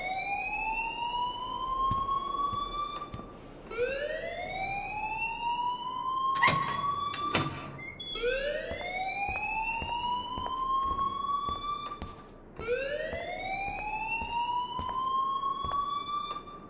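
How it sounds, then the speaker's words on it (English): A school fire alarm wails in the video game Life Is Strange, a rising electronic siren repeating in cycles of roughly four seconds, steady and prominent, with a brief sharp clatter partway through. "please turn off that alarm since that's your job"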